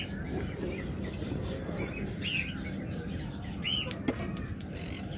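A pair of opaline birds in a cage give scattered short chirps and squeaky calls over a constant low background hum, moderately near, with no speech.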